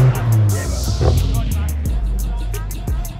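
A 4WD Nissan GQ drives an off-road track, its engine rumbling low and steady with bumps and knocks from the rough ground, close by, while excited voices shout over it.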